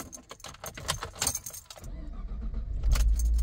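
A car engine starts with a key, first a jangle and rattle of keys, then the cranking catches and settles into a low, steady idle close by.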